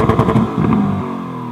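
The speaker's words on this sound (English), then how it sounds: "Quickly take a listen to this glorious V8 exhaust note." Lamborghini Urus SUV with a V8 engine revving, a loud, close exhaust burst with rapid crackling pulses that settles into a lower, steadier drone.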